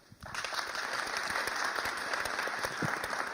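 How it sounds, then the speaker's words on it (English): Applause breaks out from a conference audience at a round-table event in Berlin, starting abruptly and continuing as steady, moderately loud clapping to the end. "maybe at this point also everybody can give a hand for that"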